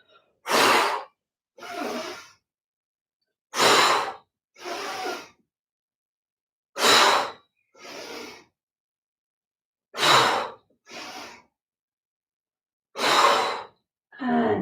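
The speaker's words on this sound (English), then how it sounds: "we're just going to exhale through the mouth" Sharp exhalations through the mouth during a yoga class, five strong breath bursts spaced about three seconds apart, each followed by a softer breath, close and alone with no talking.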